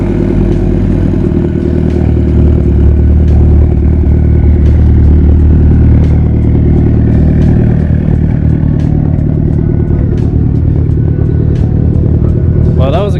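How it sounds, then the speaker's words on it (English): A Mitsubishi Evo 8 engine idles steadily and loudly up close while warming up at a cars and coffee event in Las Vegas, a constant low rumble with light clatter, while people talk over it. "We are warming up the car because we're about to leave the event."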